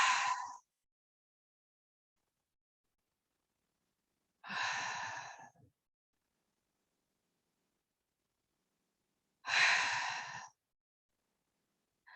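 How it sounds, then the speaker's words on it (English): Slow audible exhalations during a Pilates session, three long breaths out spaced several seconds apart with silence between them, close and alone. "breathe out"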